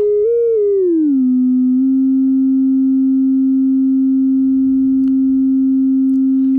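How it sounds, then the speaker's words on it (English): A pure electronic tone slides downward in pitch, then holds steady and unbroken, with faint rustling underneath. "sine has gone up in pitch significantly"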